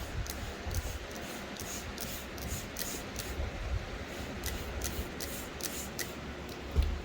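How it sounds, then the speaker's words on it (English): Short hissing bursts of a spray nozzle repeat in quick succession, close and fairly soft, with faint rustling between them. "I shake up the spray and I spray the pads"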